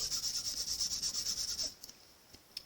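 An embossing buddy anti-static pouch rubbed over cardstock gives a quick, steady run of soft scratchy strokes for close to two seconds, then stops, leaving only a few faint taps.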